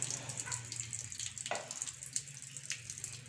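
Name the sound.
water flowing in a pond filter chamber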